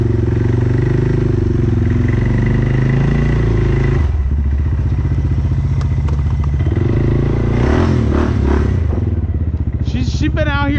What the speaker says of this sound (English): She's been out here idling for a half hour.